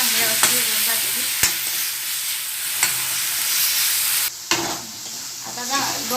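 Tomatoes roasting in a pan with salt give a loud, dense sizzle, broken by several spatula strokes and scrapes as they are stirred, plus a brief dip when the pan is moved, close and with no talking.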